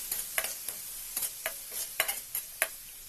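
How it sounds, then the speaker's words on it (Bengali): Chopped onion and green chili fry in hot oil for egg biryani, stirred with close, sharp scraping strokes, roughly ten quick scrapes over a steady sizzle, with no voices. "পেঁয়াজ এবং কাঁচামরিচ কুচিগুলো এখন আমরা ভালোভাবে নেড়ে নিব।"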